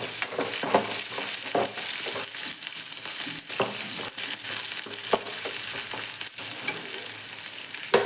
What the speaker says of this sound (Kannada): ಈಗ ನೋಡ್ರಿ ಇದಕ್ಕೆ ಉಳ್ಳಾಗಡ್ಡಿ ಮೆಣಸಿನ್ಕಾಯಿ ಹಾಕಿ ಒಂದು ಸ್ವಲ್ಪ ಫ್ರೈ ಮಾಡ್ಕೊಂಡ್ರಿ.